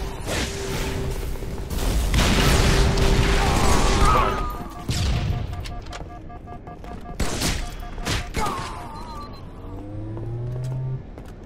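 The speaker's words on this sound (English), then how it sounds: "There's nades everywhere running around." Grenade blasts in the Halo 3 multiplayer game, with a heavy rumbling burst early and sharper booms and gunfire later, loud and close, mixed with vehicle engine noise and other game effects.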